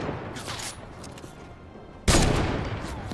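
Gunfire in a one-on-one console shooter match, a burst of shots early on, then a sudden loud blast that stays noisy and sustained to the end, with no talk.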